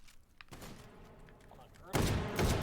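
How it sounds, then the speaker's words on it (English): Saiga shotgun fire in Killing Floor 2, with several loud blasts and broadband bursts at the start and a heavier, dense stretch of firing near the end, mixed with game noise. "Having to drop quite a few shots with the Saiga on that first swarm"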